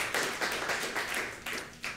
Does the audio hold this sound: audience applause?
yes